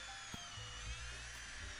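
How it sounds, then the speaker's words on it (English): A Ferrex 610W impact drill in drill mode bores into softwood with a steady, continuous high-pitched motor whine, faint and unbroken throughout. "Now I've got it set in drill mode"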